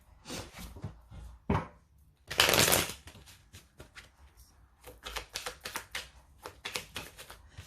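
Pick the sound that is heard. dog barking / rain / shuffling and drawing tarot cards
shuffling and drawing tarot cards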